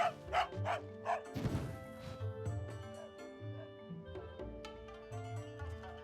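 A white dog in the video game Fate/Samurai Remnant gives a few short, close yips and barks over a layered game music soundtrack, with no talking.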